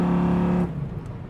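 A 1973 Chevrolet Camaro Z28 restomod with a 350 V8, aluminum heads and a big cam and a four-speed overdrive gearbox roars steadily under acceleration, then the engine note drops off abruptly as it shifts or pulls away.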